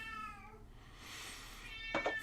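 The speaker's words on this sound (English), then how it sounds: "Cat wants to go along." A cat meows in an alley: a soft, faint meow at the start, quiet rustling in between, and a louder, sharper meow near the end, with no talk over it.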